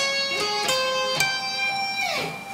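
Electric guitar playing four solo notes, the last sounded together, from a solo: several sustained, bright plucked tones with clear attacks in quick succession, ending in a ringing chord that slides down.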